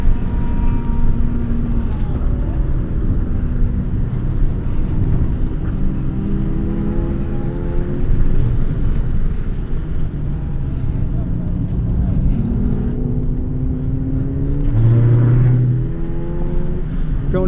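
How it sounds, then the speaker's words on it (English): A car engine revs up and down through a heel-toe downshift from fourth to third on a track. It is loud and close, with steady engine drone and rising pitch sweeps. A voice speaks over it at times. "I'm going to go from 4th to 3rd."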